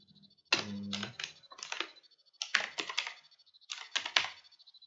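Bursts of typing on a computer keyboard while entering Java code, in clusters of quick clicks separated by short pauses, close and fairly quiet.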